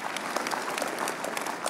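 A church congregation claps together, a steady burst of dense hand claps filling the room at close to moderate distance for the whole moment.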